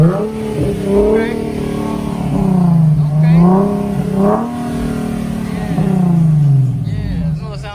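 A car engine revving repeatedly at a car meet, several rising and falling roars close by with exhaust burble between pulls, with people talking in the background.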